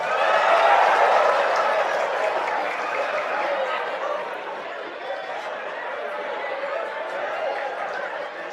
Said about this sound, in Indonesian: kok tepuk tangannya keras banget?